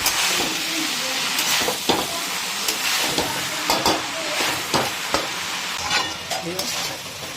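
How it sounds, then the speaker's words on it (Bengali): Chopped banana flower frying in a hot pan with no water added, stirred steadily; a continuous close sizzle runs throughout, broken by repeated scraping and stirring knocks. "জাস্ট একটু ভাজা ভাজা মতনই এটাকে ভালো করে মিক্স করতে হবে।"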